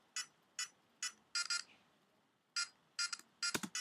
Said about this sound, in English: So you hear, it's a synthesizer sound.